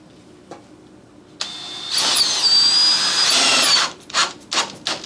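A power drill drives a couple of small deck screws into wood for a model railroad switch, with two close, loud whirring bursts that rise in pitch, then short trailing buzzes as the screws seat.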